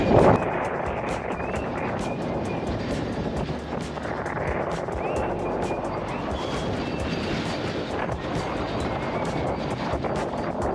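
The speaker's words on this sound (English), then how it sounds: "And the wind again. The wind, headwind." Steady wind roars and buffets across the microphone of a bicycle riding into a headwind, a broad continuous rumble with gusty swells that lasts throughout.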